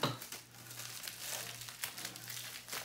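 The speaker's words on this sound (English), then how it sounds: "Put some bubble wrap." Bubble wrap is wrapped around the large head of a golf driver, making a continuous close crinkling and rustling of plastic with no talking.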